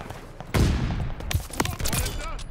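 A sharp, loud gunshot cracks out in COD Vanguard at about half a second, followed by a busy tail of smaller shots and game effects.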